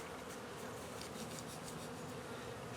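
Honeybees buzz inside a winter hive being fed dry sugar, a close, dense and continuous hum with no voices.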